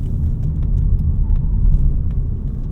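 A 2025 Mazda3 2.5 S Carbon Edition AWD sedan is driven hard into a corner, giving a loud, close, continuous low engine and road rumble with no talking.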